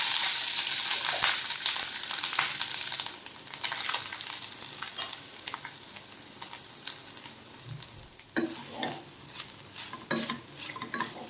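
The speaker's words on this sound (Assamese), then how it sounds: "তাৰপিছত নাৰিকলখিনি ভাজি ল'ব লাগিব, খুব ধুনীয়াকৈ ভাজি ল'ব লাগিব 5 মিনিটমান সময়" Grated coconut fries in melted ghee, with loud crackling sizzle that softens over time. A spoon stirs and scrapes against the pan with clinks throughout.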